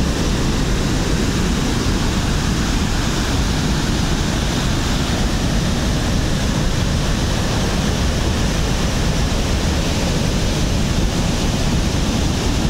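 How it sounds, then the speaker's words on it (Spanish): Pailón del Diablo waterfall roars as a dense, steady, broadband rush of falling water, loud and unbroken throughout with no voices. "Esta es la parte superior, la parte de arriba del inicio de la cascada del Pailón del Diablo."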